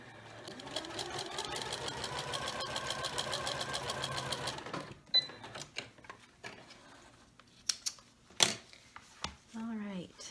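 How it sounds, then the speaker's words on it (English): A sewing machine stitches fabric in a fast, steady run of needle strokes for about four seconds, then stops. Scattered clicks, handling noises and faint talking follow. "I'm going to bring it up to the machine and stitch 1/4 of an inch"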